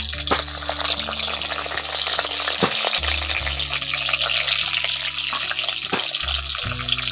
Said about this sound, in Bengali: এখন ওর মধ্যে দিয়ে দিচ্ছি টমেটো, একটু টমেটো 4 ভাগ করে